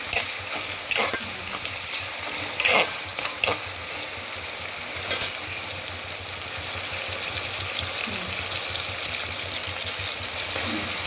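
Eggplant and potato curry sizzles and fries steadily in a pan, a dense crackling hiss with occasional sharper spatters and stirring, close and continuous.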